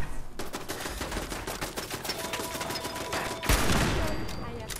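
Rapid bursts of gunfire in the video game Fallout 4, a dense sustained stream of shots followed by a louder blast near the end.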